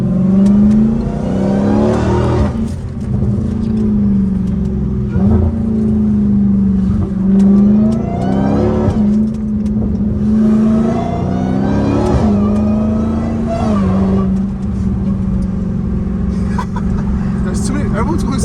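Supercharged Dodge Hellcat Redeye engine revving loudly and close, rising and falling in repeated pulls with a steady high whine over the low drone, while people talk over it.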